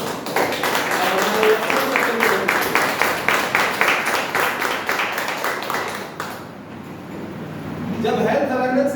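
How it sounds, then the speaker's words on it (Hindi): Audience applause at a program fills most of the moment, a dense patter of clapping with voices talking over it. It fades briefly near the end before talking picks up again. "इस प्रोग्राम को ऑर्गेनाइज करने के लिए एक जबरदस्त ताली"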